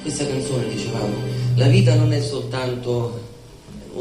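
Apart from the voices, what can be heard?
No everyday noise stands out behind the speech.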